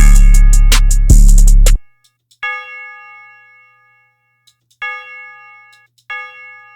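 Bright synthesized bell sample in an FL Studio drum beat, struck three times at spaced intervals with long ringing decays, loud and clean, after a brief dense burst of other sound at the start.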